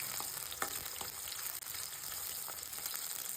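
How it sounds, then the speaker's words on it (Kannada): Chillies and onion frying in hot oil in a pan, a faint, steady crackling sizzle with a few soft stirring clicks and no voices. "ಈಗ ಫ್ರೈ ಆಗಿದೆ ಎಣ್ಣೆಯಲ್ಲಿ ಮೆಣಸಿನ್ಕಾಯಿ, ಈರುಳ್ಳಿ ಹಾಕಿದ್ದೀವಿ"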